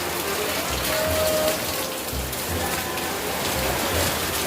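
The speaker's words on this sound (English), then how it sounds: "really like heavy raining, like really pouring it down" Steady heavy rain pours down during a storm on Cheung Chau, in a constant dense hiss, loud and close, with no talking.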